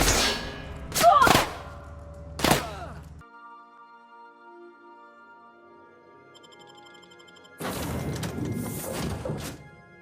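Combat gunfire from the video game The Outer Worlds, a few loud sharp bursts early on, then a quieter stretch with a sustained tone, and a dense loud burst of noise near the end.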